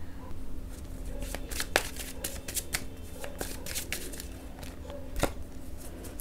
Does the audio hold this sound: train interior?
no